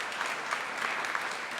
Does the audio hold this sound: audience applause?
yes